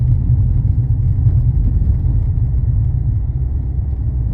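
A car rolls past close by along a waterside road, a steady heavy low rumble of engine and tyres holding at an even loudness through the whole stretch, with no voices.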